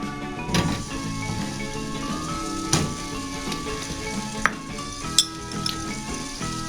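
Sliced butter heats in a pan for garlic bread, giving off a gentle, steady crackling sizzle broken by a few faint metallic taps.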